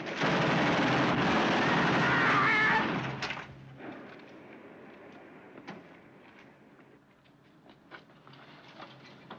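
Gunfire in a 1954 film scene, a loud sustained burst of rapid shots that cuts off abruptly, followed by quieter scattered sounds and room tone with no speech.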